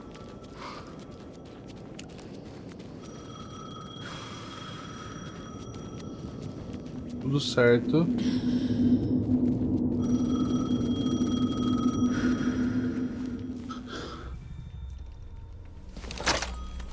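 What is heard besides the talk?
telephone ringing in the video game Alan Wake II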